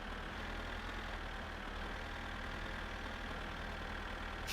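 Tractor engine idling in the video game My Summer Car, a steady low diesel rumble held evenly throughout at constant level, no voices.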